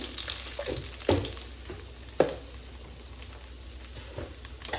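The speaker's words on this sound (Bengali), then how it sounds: "তো এখন দিয়ে দিচ্ছি আমি ফোড়নের জন্য কিছুটা রাঁধুনি" Radhuni seeds hitting hot oil in a kadai for a Bengali tempering, giving a steady crackling sizzle with sharp pops, loud and close, no talk.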